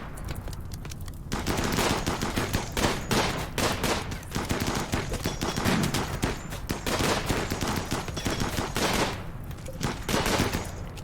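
Rapid bursts of automatic gunfire from the video game RimWorld crackle almost continuously after a short quieter opening, with dense overlapping shots and brief gaps.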